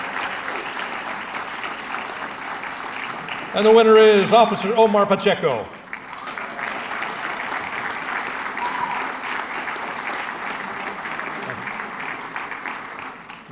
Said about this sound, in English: Let's give them all a round of applause for being nominated.